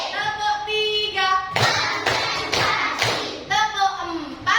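A group of students claps along in a counted rhythm, sharp bursts of many hands sounding between stretches of a leader's spoken counting, fairly close and loud.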